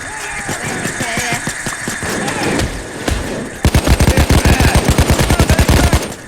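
Gunfire in the shooting game Payday 2: scattered shots and engine rumble give way to a loud, rapid burst of automatic fire that hammers on for several seconds.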